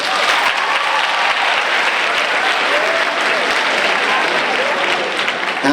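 Dense, sustained applause from a large audience at an MLK Day comedy event fills the whole stretch, loud and steady without breaks.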